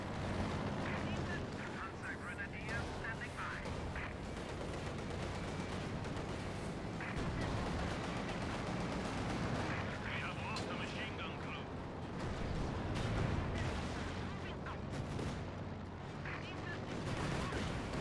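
Base defense gunfire and artillery in Company of Heroes, a World War II strategy game, thud and crackle in a dense continuous barrage of distant booms and rapid shots across the whole battle scene.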